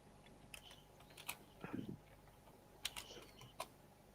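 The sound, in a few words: typing hard on a computer keyboard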